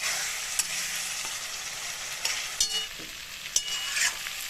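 Spice masala sizzling and being stirred in a pan for okra and gram-flour bhindi, a steady close hiss of frying with occasional scraping and clicking of the spoon, no voices.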